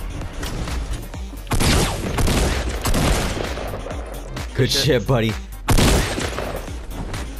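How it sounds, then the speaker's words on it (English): Bursts of Fortnite Battle Royale gunfire crackle in several loud volleys during a 50v50 match, mixed with excited talking between players. "You heard those gunshots right here."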